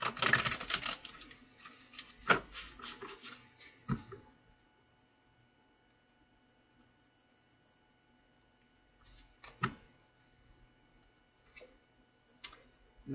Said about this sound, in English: One more shuffle, spirit.